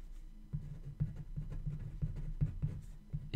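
Writing on a board during an electrical lesson: a run of quick tapping and scratching strokes in an irregular rhythm, close and moderately soft, with no talking.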